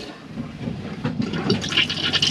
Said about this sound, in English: To flush the toilet, you're going to need to press this blue button.